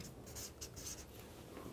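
A marker pen scratches across a surface in a few short, squeaky strokes, close by against a steady background hiss.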